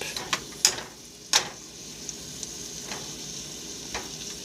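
A steady, low sizzle of butter in a pan, close by, broken by a few sharp scraping clicks from a utensil.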